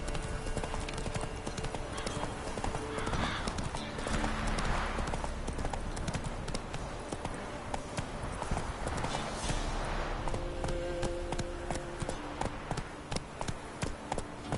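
Roach, a horse in the video game The Witcher 3, gallops in a fast, steady drumming of hoofbeats that runs throughout, close and loud, with a brief whinny and faint game sounds behind.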